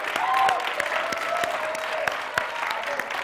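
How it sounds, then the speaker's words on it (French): A TV studio audience gives scattered, fairly faint claps, with sharp individual hand strikes sounding over a sustained tonal voice. "Applaudissements pour Mr."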